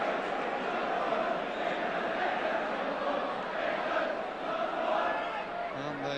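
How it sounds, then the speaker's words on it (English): Football crowd at a 1983 Luton v Spurs or Aston Villa v Leicester match chanting for goalkeeper Spink, a dense, steady roar of many voices filling the stadium throughout. "the cry from the crowd about Spink is England's #1"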